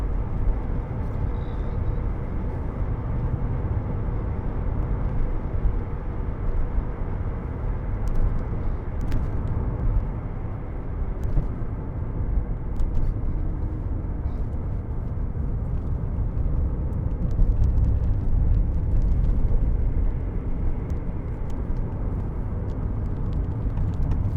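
A 2003 Alfa Romeo GTV 2.0 Twin Spark 16v drives along, its engine and road noise heard from inside as a steady low rumbling drone that swells slightly now and then.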